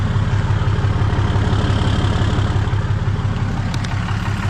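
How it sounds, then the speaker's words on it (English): Cummins diesel engine idling while warming up in winter, a loud, steady low rumble with an even pulsing beat, close by and continuous throughout. "Alright, we got the Cummins warming up."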